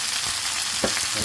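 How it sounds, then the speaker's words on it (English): Sirloin beef tips sizzle steadily as they fry in a pan, a dense continuous hiss with a few brief louder crackles and pops, close and even throughout. "So, let this cook and turn it on all sides until it gets nice and lightly brown."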